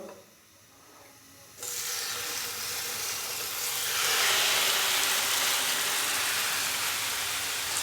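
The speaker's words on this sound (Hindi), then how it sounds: "तो अभी मैं इसके अंदर मैरिनेट किया हुआ चिकन डाल दूंगा।" Marinated chicken for chicken tikka handi drops into lightly heated oil and bursts into a loud, steady sizzle that swells and holds, after a brief quiet moment.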